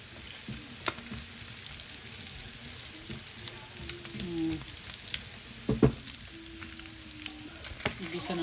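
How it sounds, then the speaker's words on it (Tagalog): Onion sautés in a pan with garlic for estofado, giving a soft, steady sizzle with occasional clicks and scrapes of a utensil, close but fairly quiet, with no talking. "Lalagyan ko itong sibuyas."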